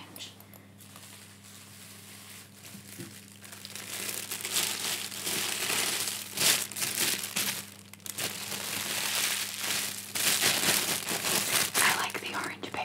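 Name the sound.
crinkling orange paper wrapping wooden pyrography bookmarks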